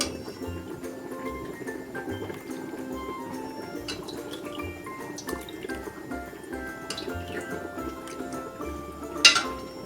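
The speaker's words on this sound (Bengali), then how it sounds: "দেখুন আমি এর মধ্যে আরেকটু দুধ মিক্সড করে নিচ্ছি" Milk is mixed into thick, cooled homemade mishti dahi (sweet yogurt), giving soft wet sloshing and dripping with a few light spoon clinks against the container, steady and close throughout.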